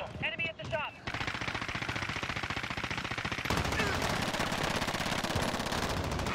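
Rapid automatic gunfire in Call of Duty: Modern Warfare, a loud, dense rattle of shots that starts after a brief voice, then turns heavier and continues without break.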